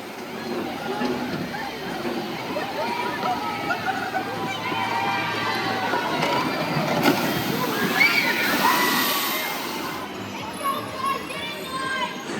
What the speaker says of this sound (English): Love to see that the water fountain's going and everything.